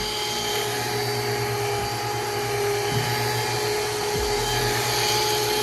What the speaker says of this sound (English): I'm sanding his car